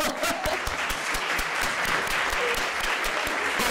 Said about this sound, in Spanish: Así es que un fuerte aplauso